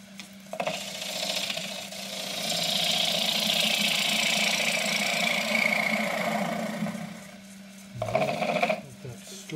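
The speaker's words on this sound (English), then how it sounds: "So I'm going to use the 3/8 spindle gouge" A wood lathe spins a distorted loquat bowl under a 3/8 spindle gouge, humming steadily beneath a broad hissing cut that swells in the middle, then breaks off before a short rougher burst.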